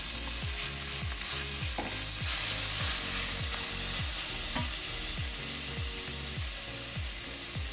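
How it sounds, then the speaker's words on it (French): Onions sizzling steadily in a hot pan, with a regular, rhythmic scrape of a utensil stirring them through the continuous close frying hiss. "Alors, fais bien revenir les oignons."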